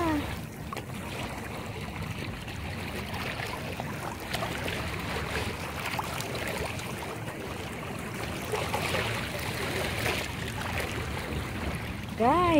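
Water rushes steadily over crystal rocks in a natural stream, a broad continuous wash with brief faint tonal sounds at the edges.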